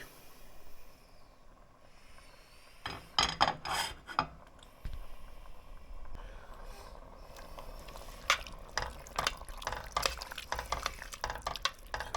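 Chopped mushrooms drop into a pot of tomato sauce with quick clattering thuds, followed by scraping and stirring against the pot, close and moderately loud.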